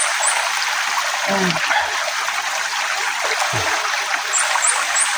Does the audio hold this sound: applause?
no